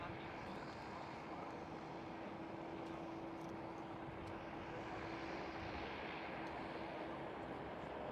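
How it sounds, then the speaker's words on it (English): A KLM Boeing 787-10 airliner on the runway at Amsterdam Schiphol gives a steady, distant jet roar with a faint constant whine, broad and unchanging for the whole stretch. A voice speaks quietly beneath it. "Right here on runway 24 we do have the KLM 787-10."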